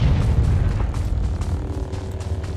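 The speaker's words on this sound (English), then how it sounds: "There's explosions going on!" Deep rumbling explosions in the video game Star Wars: The Old Republic, low heavy booms rolling one after another in a continuous barrage, loud and close.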